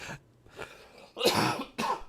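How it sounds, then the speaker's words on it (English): Several coughs and throat clearings from a man, close and loud, in short bursts with pauses between, the last two coughs the strongest; no speech. "I've still got a bit of a cough going on."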